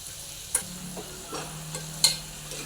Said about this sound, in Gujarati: લસણવાળી ચટણીને આ બરોબર આપણે મિક્સ કરી લેવાની છે